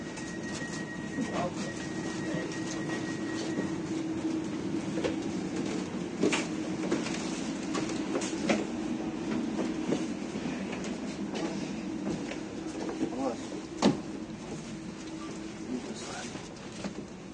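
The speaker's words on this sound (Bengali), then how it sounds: "এটাই আমার ট্রেন, যেটাতে আজকে আমি যাব।" Inside a passenger train travelling from Pavia to Rome, a steady rumble of running wheels continues throughout, broken by intermittent clicks and clacks over the track, with faint voices in the carriage.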